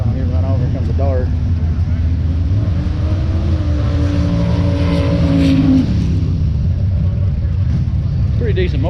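A 1974 Dodge Dart Sport 360 runs at a drag strip, its engine a loud continuous roar with rising pitch as it accelerates, mixed with other race cars and crowd noise throughout.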